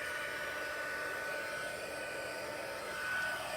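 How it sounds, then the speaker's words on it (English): A heat embossing tool blows hot air over a shaker card, giving a steady, close whooshing hiss like a small hair dryer, continuous and unaccompanied throughout. "Heat up my tool here."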